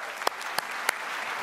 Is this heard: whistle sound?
no